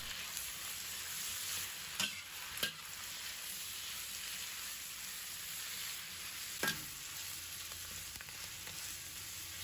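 Mustard green stems and leaves with carrot stir-fry in a wok with a soft, even hiss. A few sharp spatula knocks land against the pan. No voices are heard.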